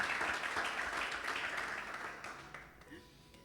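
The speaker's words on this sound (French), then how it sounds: "On peut applaudir ça en tout cas." A church congregation claps in a brief burst of applause that fades away over a few seconds, with speech rising as the clapping dies.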